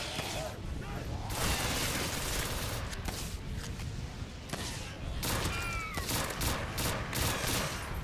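Loud, sustained volleys of video game gunfire as players shoot zombies in a Halloween-themed game, with shots crowding together in rapid clusters and voices talking over parts of the shooting.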